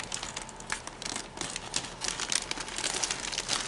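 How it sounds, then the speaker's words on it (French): A plastic bag crinkles and rustles steadily as it is cut open with scissors, close up and continuous with sharper crackles throughout, no voices. "Ok, on va aller prendre les ciseaux. Et on va ouvrir un bout de sac."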